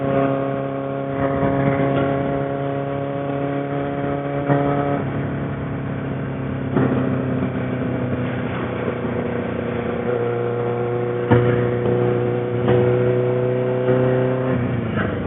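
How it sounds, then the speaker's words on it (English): A 1999 Suzuki Katana 600 motorcycle with tuned carburetors rides through town traffic, its engine a steady, close drone that shifts pitch with throttle changes and gear shifts for the whole stretch, with no talking. "Hopefully you get to hear the sounds on this motorcycle."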